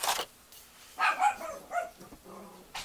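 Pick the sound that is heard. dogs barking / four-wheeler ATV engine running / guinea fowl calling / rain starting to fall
dogs barking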